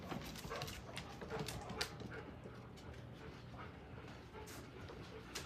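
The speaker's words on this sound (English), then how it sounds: "These two dogs are already distracting me." Two dogs indoors make soft panting, whimpering and shuffling sounds, faint and a little distant, with small clicks and movement noises scattered throughout.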